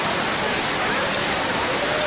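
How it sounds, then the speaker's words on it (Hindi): A steady, full roar of falling water, broadband and constant throughout, like a waterfall heard up close on the Amarnath Yatra trek between Baltal and Chandanwari, with no talking. "ये झरना आ रहा"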